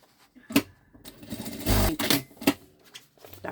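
A sewing machine stitching a seam on a synthetic backpack, short bursts of rapid mechanical clatter with pauses and handling knocks between, close by.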